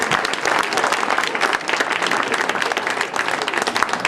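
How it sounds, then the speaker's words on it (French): An audience at a gathering in La Roche breaks into sustained applause, dense clapping holding steady and loud throughout, with no talking over it. "Et je crois qu'il faut l'applaudir."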